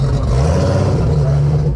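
A drag racing car on 275 radial tires revs hard, a loud close engine roar held steady through a wheelie launch, with voices faintly underneath.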